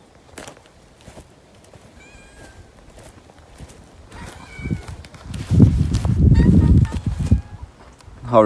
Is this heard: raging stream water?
no